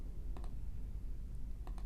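Two pairs of quick mouse clicks, double-click style, spaced apart over a faint low hum.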